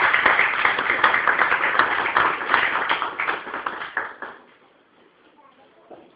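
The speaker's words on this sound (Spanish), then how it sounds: "Dale un aplauso al Señor." A church congregation claps together in praise during a Spanish-language worship service, a dense, loud burst of many hands that carries on steadily for about four seconds, then quickly dies away into near silence with a faint sound near the end.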